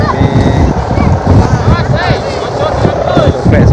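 Strong, gusty wind roars and buffets the microphone across a kite-flying field, a steady loud rush with faint whistling tones on top.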